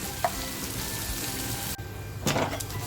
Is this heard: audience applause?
no